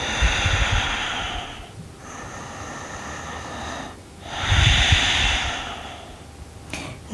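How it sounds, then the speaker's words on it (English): Slow deep breathing during a calming hot-day yoga practice: long airy inhales and exhales, loud and close, in a steady rhythm of about three drawn-out breaths with brief pauses between. "Deep, deep breaths."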